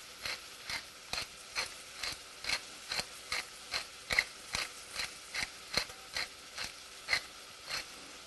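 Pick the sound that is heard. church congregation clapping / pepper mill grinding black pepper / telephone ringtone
pepper mill grinding black pepper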